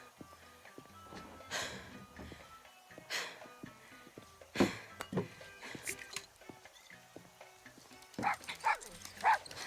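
A dog in the video game Far Cry 6 gives scattered yips and barks amid game sound effects and voices, fairly faint with intermittent sharp bursts.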